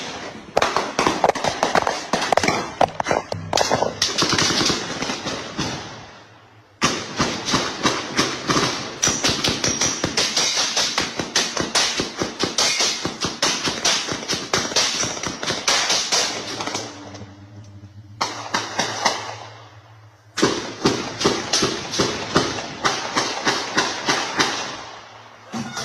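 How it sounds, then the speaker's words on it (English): Sustained bursts of rapid gunfire crack on and off for nearly half a minute, loud and sharp, with brief pauses between long volleys. "multiple minutes of nearly continuous gunfire"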